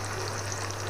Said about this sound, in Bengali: এই সসটা ঢেলে দেবো।